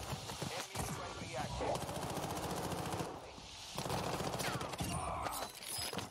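Rapid automatic gunfire from a video game shooter on the Vondel map rattles on for several seconds in sustained bursts, with a player's voice talking over the shooting.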